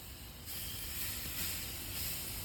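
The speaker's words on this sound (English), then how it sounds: "listen to that sizzle, baby." Steaks sizzle loudly on a hot grill, a bright, crackling hiss that swells as more pieces hit the surface.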